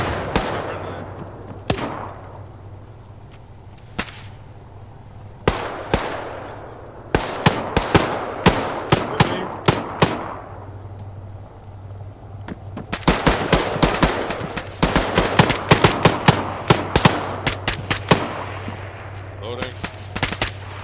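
Vehicle-mounted machine gun fire in Arma 3, with sharp bursts and single shots repeating through the scene, some near and loud, others quieter, over a steady low engine hum.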